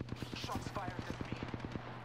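Rapid automatic gunfire from an Apex Legends match, a steady stream of evenly spaced shots lasting the full two seconds, fairly close and punchy over a low, constant hum.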